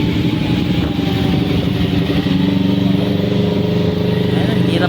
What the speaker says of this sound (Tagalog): May mga motor, may mga sasakyan pa.